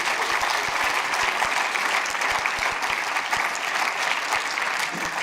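Cinema audience at a film premiere applauding, dense continuous clapping with a few crisp nearby claps punctuating the wash, steady and fairly loud throughout.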